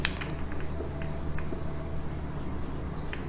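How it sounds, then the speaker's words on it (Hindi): Pen on paper in a classroom, soft scratchy strokes in short bursts, faint and close against a low steady background hum. "लिखते हैं बेटा"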